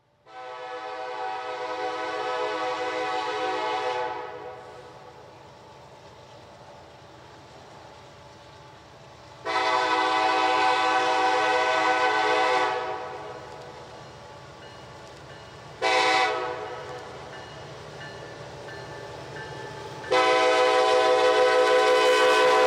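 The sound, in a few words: CPKC coal train passing with horn at grade crossing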